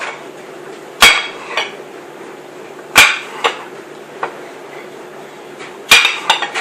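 Apples being chopped with a knife on a cutting board: a few sharp, separate knocks spaced about two seconds apart, each with a quick follow-up tap, close and loud over a quiet room.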